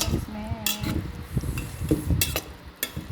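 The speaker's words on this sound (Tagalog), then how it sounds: "Tapos, haluin po natin. Mix lang to." Boiled sweet potato leaves being stirred and mixed in a pot, with scraping utensil strokes, metallic clinks and light sizzling, close and moderately loud.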